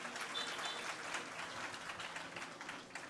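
An audience at a devotional dayro gathering at Gadhpurdham temple claps in a dense, sustained burst of applause that carries for a few seconds before tapering slightly.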